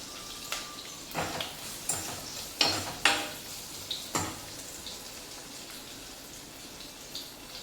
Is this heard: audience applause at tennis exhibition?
no